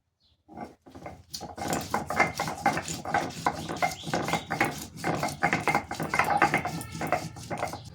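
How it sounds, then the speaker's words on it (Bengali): Dried red chillies are ground by hand on a stone: a continuous rough rasping and rubbing with a quick back-and-forth rhythm, loud and close, running for several seconds with no talking. "এবার কিন্তু আমি শুকনো লঙ্কাগুলো বেটে নেব"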